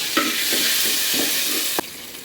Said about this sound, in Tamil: வெந்தயமும் சோம்பு வெந்தயம் போட்டு கொஞ்சம் மணத்துக்கு தாளிக்கணும்